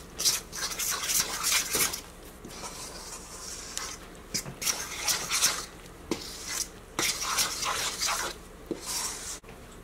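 Bread dough for a homemade Subway-style loaf, with vegetable oil added, is stirred in a bowl: irregular close scraping and rubbing strokes come in uneven bursts throughout, with no voices.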